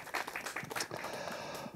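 A crowd at a Korean political rally claps steadily together, a dense wash of applause filling the whole moment without pause.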